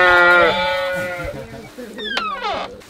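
Sheep at a farm bleat loudly and close, one long wavering bleat followed by a couple of shorter rising calls, with faint talk in the background.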